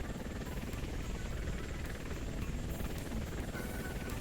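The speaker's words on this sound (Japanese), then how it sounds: "すごい数のヘリだね。" Many helicopters carrying containers in the video game Muv Luv Photonmelodies make a dense, continuous rotor roar and whir that stays steady and loud throughout.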